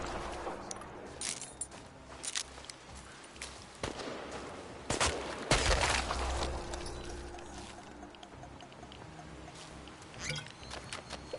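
Gunfire in the video game Chernobylite: several sharp shots crack out in the middle of the stretch, one heavier burst standing out, over a busy, rumbling game soundscape with no talk.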